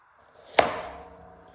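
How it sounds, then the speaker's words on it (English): A knife dicing peeled onions on a cutting board gives one crisp, close chop that rings briefly and fades, alone in a quiet kitchen. "Alright, start by dicing the onions."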